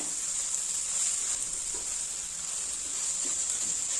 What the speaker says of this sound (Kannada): ಒಂದು ಚಿಕ್ಕ ಸ್ಪೂನು ಧನಿಯಾ ಪುಡಿ, ಹೆಚ್ಚಿಟ್ಟಿರೋ ಕೊತ್ತಂಬರಿ ಸೊಪ್ಪು ಹಾಕಿ ಚೆನ್ನಾಗಿ ಮಿಕ್ಸ್ ಮಾಡೋಣ